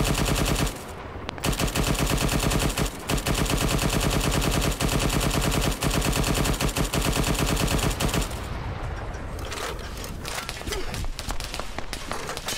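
Sustained automatic gunfire from a tactical police-operations video game, rapid continuous bursts of machine-gun shots running loud through most of the stretch, with brief pauses and scattered single shots near the end.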